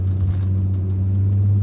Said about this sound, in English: Listen to how that engine purrs, man.